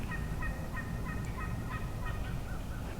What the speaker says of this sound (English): turkeys yelping.